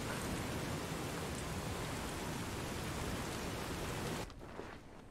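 Rain falls in the video game Fallout New Vegas as a steady, even hiss that fills the scene and then drops off sharply near the end, with no talk over it.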